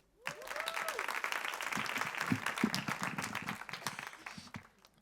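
An audience claps for the singers during a musical break at an evening talk, a full burst of applause rising after a brief tone and sustained for several seconds before trailing off.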